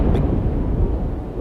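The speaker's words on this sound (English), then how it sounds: "That was the main blast" The main explosion of a SpaceX prototype rocket heard from far away as a deep, sustained low rumble that fills the whole moment, with no talking.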